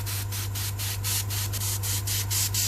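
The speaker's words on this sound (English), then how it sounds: "I'm going to use an airbrush" An airbrush sprays weathering paint onto model tank tracks, a steady close hiss pulsing in quick regular bursts with a low steady hum from the compressor underneath.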